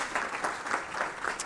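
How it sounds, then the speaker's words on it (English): An audience at a panel session of a conference forum claps for the panel participants, a moderate patter of applause with a few louder swells, heard from a little distance at modest volume. "please give a round of applause to our participants"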